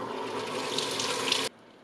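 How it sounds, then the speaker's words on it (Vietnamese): A kitchen tap runs steadily over salted eggs being rinsed, a close, even hiss of flowing water that stops abruptly near the end. "Sau đó mình sẽ rửa dưới vòi nước chảy."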